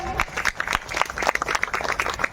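A crowd claps loudly and continuously for sir and madam at a Women's Day event, the applause dense and close throughout, with a faint voice mixed in.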